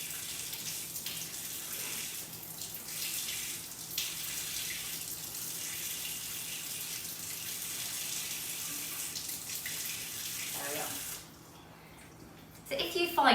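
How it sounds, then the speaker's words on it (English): Hot water runs steadily from a kitchen tap over a blocked icing piping nozzle, a continuous close hiss and splash that stops near the end, followed by a few faint clatters. "I might have to run it under some hot water."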